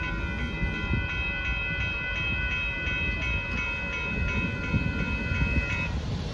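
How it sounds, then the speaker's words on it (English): A long northbound Union Pacific coal train passes Dittmar Road in Austin, Texas, its horn holding several sustained tones over a steady rumble of wheels and cars that continues after the horn cuts off. "there goes that Monster Northbound Union Pacific"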